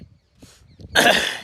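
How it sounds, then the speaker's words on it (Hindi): A single harsh, raspy cough bursts out close by after a moment of near silence, with faint rustling beforehand. "अभी खांसी नहीं गई,"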